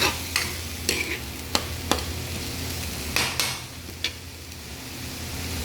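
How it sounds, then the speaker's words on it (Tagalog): Pancit bihon rice noodles being stirred in a frying pan, with several sharp utensil scrapes and taps over a steady low sizzle, close and fairly quiet. "Halu-haluin."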